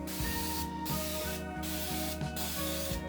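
Spray paint hisses steadily from an aerosol can's nozzle during interior repairs on a Porsche 928, close and continuous, with a rhythmic mechanical clicking pattern repeating underneath.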